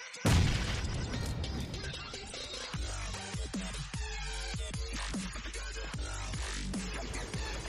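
Grenade blast in the mobile shooter BGMI, a loud boom at the start followed by a dense run of sharp bangs, cracks and impacts layered over constant game noise.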